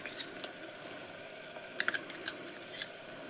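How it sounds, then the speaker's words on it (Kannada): Red chili powder sizzling in hot oil, a faint steady frying hiss with a few soft clinks and stirring scrapes of a utensil against the pan, close and quiet. "ಇದು ಎಣ್ಣೆ ಒಳಗೆ ಫ್ರೈ ಬೇಕು ನೋಡ್ರಿ ನಾನೀಗ ರುಚಿಗೆ ತಕ್ಕಷ್ಟು ಇದು ಖಾರ ಹಾಕ್ತೇನೆ"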